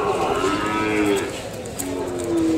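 A calf at a cattle market in Kodada, Telangana, gives two loud, drawn-out moos close by, with a brief pause between them over murmuring market background.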